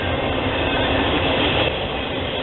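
A Union Pacific freight train rolls past at trackside in Riverside, California, with the UP 1995 Chicago and Northwestern heritage locomotive running as the rear DPU, a loud, continuous roar of wheels and cars close by.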